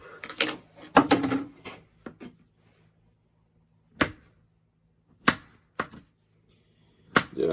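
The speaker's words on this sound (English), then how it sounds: "Just slice the bananas into thin slices, depending on how you want it." Bananas being sliced thin on a cutting board, several crisp knife taps in short bursts separated by silence, close and clear.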